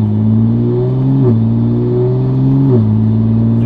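Toyota Supra A90 with faster shift coding pulls hard under acceleration, its engine note climbing steadily then dropping sharply at two quick gear changes, loud and close with no talk.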